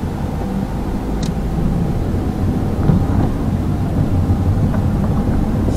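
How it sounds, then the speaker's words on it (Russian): A Chery Tiggo's ventilation blower runs as a steady, broad whooshing hum inside the cabin, holding an even level throughout with no talk. "Если включить обдув, конечно, он будет шумнее в машине"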